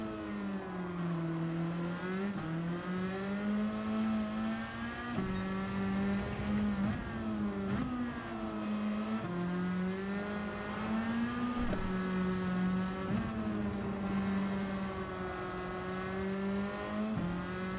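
A race car engine in a racing video game drones on continuously, its tone swelling and dipping as the car accelerates and brakes through corners, steady and fairly close, with no talk.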